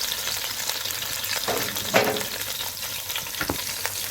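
Cow trotters fry in a pot with a steady, close sizzle, broken by a couple of sharp bumps and crackles as the pieces are turned over; no talking.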